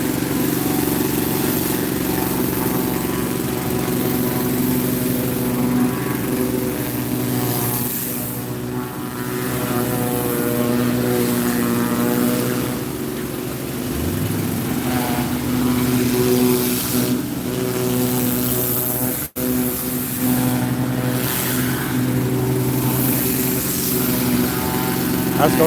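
Boat haul-out machinery runs with a loud, steady engine drone and strong tonal hum throughout, close and continuous, with people talking faintly beneath it.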